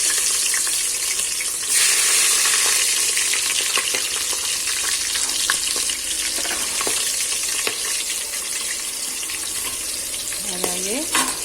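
Food frying in a pan before green chillies go in, a loud continuous sizzle with scraping and stirring knocks scattered across it, alone without talk.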